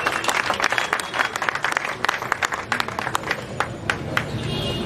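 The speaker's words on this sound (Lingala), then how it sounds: "Acclamez encore." A crowd claps and applauds steadily, a dense patter of many hands throughout, fairly loud and close.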